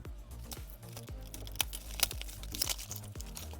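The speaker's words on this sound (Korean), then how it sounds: "언박싱 한번 해볼까요?" A Ryzen 3700X CPU box being unboxed, close crinkling and tearing of packaging with several sharp snaps and rustles in quick succession.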